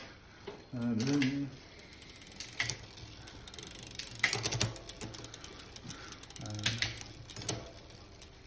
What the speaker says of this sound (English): Just change gear. Do it slowly, so if you've got any excess oil in it, it doesn't come splattering across the bike onto the rotor.